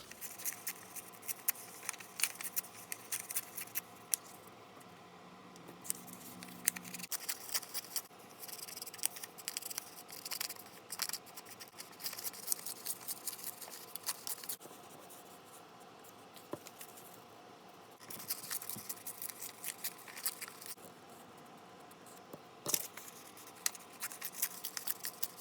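Pages ripped by hand from a book for a junk journal, giving a long stretch of faint crackling, rustling paper tears and handling noises close by, with no speech.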